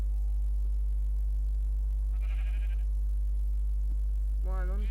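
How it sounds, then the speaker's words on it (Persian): Sheep bleating in the Minecraft video game, a short bleat near the middle and another at the end, over a steady low game hum with no talk. "بعد باید بگردید دنبال گوسفند پیدا کنید."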